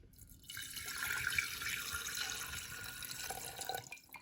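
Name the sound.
water being poured into a vase holding an orchid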